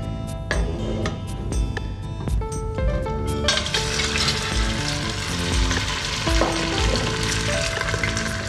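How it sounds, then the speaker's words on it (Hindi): Meat browning in hot ghee: loud, close frying sizzle that swells into a dense continuous crackle after a few sharp clattering stirs at the start. "अब इसमें मीट को ब्राउन करेंगे घी के अंदर"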